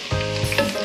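Pork ribs sizzle and fry in their own rendered fat for a Bicol Express, a steady close crackle with stirring bursts.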